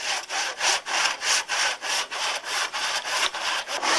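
A hand saw cuts through old timber during a German housebarn restoration, giving steady, close, rhythmic rasping strokes about twice a second with no talking.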